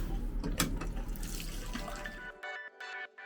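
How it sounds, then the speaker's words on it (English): Water running from an old-style knob-operated shower in a budget Kansas country inn hotel bathroom, a steady splashing hiss that cuts off abruptly, leaving a few faint drips and clicks. "Here's a quick test of the shower."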